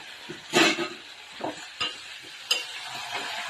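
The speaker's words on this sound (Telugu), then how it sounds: "ఇంకా ఉల్లిపాయ వేసుకొని పోపు అయితే వేసుకోవాలి" Onions, dried red chilies, curry leaves and tempering spices frying in oil, a soft crackle broken by a few louder stirring scrapes and pops at uneven intervals.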